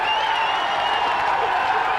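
A crowd at a Minnesota Fighting Championships MMA event roars and cheers in a continuous, loud wash of noise. A few shouts rise above it.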